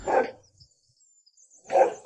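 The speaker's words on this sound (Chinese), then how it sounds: "狗狗是拴在这里的" A dog tied up at a remote mountain farmhouse barks twice, loud and close, with a brief quiet pause between the two barks.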